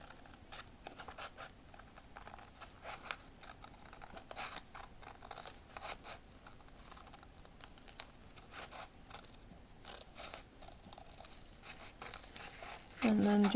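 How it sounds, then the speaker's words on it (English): Scissors cut through material for a miniature cat cafe garden room box, repeated quiet snips and scratchy cuts spread through the clip, with a louder rustle at the end. "I hate to cut from this side"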